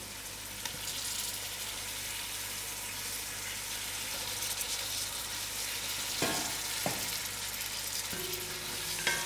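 Potatoes fry in masala for a broad beans curry, giving a steady close sizzle and hiss throughout. A few sharp utensil knocks and stirring scrapes come near the end.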